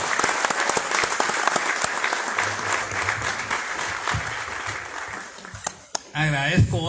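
An audience at a speech by military figures applauds continuously, a dense spread of clapping that holds steady and then thins out, with a voice cutting in over it at the end.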